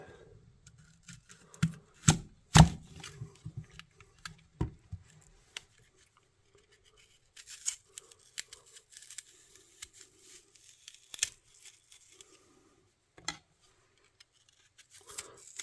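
A Victorinox paring knife slices through an apple, giving a few crisp cuts and snaps near the start, then quieter scattered cutting and crunching sounds, close and faint, with no talk.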